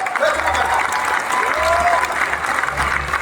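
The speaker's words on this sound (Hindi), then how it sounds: "एक बार जोरदार ताली बजाए।" Loud, sustained applause from a large crowd at a poetry recital (kavi sammelan) at IIT Kanpur, continuous clapping with a low hum beneath and a few faint voices rising through it.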